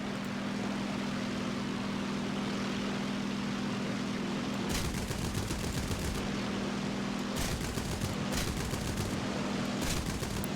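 Aircraft guns on a J6K1 fighter in War Thunder hammer out several rapid bursts of automatic fire over a steady engine drone, the longest burst running about a second and a half before shorter bursts follow.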